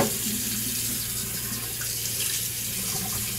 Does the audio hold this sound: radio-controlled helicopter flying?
no